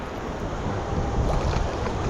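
Sea waves wash and churn at a beach in Palma de Mallorca, a loud, steady broadband rush close by with wind buffeting the microphone and no voices.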